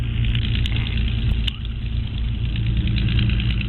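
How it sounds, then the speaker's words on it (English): A Spitfire aircraft engine idles on the ground before taxiing, a steady, loud, throbbing rumble with a slight dip partway through. "Spitfire just about to taxi out."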